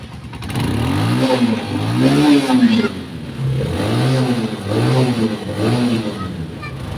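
A Haojue 125 motorcycle engine revs up and down in several rising and falling swells, loud and close, fitted with a replacement stator coil.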